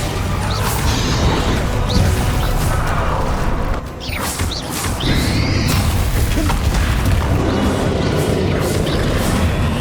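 A Bombarda spell explosion in the Hogwarts Legacy video game during a fight, heavy booming crashes and whooshing blasts over a dense, loud, continuous rumble of game effects.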